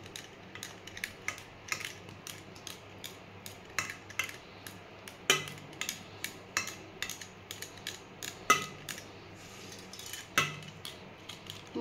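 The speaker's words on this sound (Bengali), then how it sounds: "আমি খুন্তি দিয়ে একটু চেপে দিচ্ছি।" A metal spatula presses and taps a hot pumpkin dhoka mixture with lentils in a pan, giving a long run of light, close metallic clicks and scrapes in an uneven rhythm with no talk.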